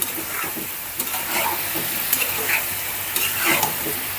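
Whole garlic cloves sizzle in a pan of hot oil with spices, making a close, steady frying hiss with occasional crackles and stirring scrapes.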